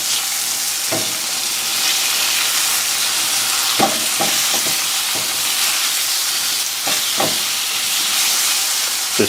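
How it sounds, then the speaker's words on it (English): Sun-dried tomatoes and two garlic cloves sizzle in a pan of sautéed zucchini, a steady loud frying hiss with a few brief sharp crackles and stirring clicks throughout. "I'm going to go ahead and add my sun-dried tomatoes and my 2 cloves of garlic."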